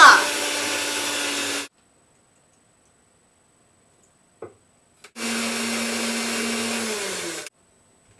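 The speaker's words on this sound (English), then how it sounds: "Now you're going to continue beating them so they're thick, kind of shiny" Electric hand mixer beating egg whites with sugar for chocolate mousse, two loud steady whirring bursts of about two seconds each, separated by a quiet pause with a faint knock.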